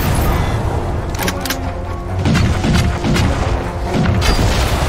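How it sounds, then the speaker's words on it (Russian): Loud, heavy gunfire and booming impacts in Crysis 2, with repeated thudding blasts and crackling shots in uneven clusters, close and dense, without speech. "Кто это так стреляет?"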